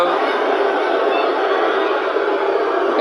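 A packed NFL stadium crowd in Los Angeles at a Philadelphia–Rams wildcard game reacts to a penalty flag with a steady, loud roar of massed voices that holds evenly without breaks.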